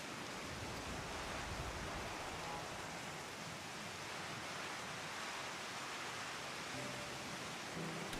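Steady, even rain ambience in Final Fantasy XIV, a soft continuous hiss of falling rain with faint in-game music tones near the end, no talking.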